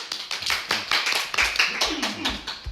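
A class clapping together in a church study session, a series of brisk rhythmic claps up close, with voices talking and calling out over them.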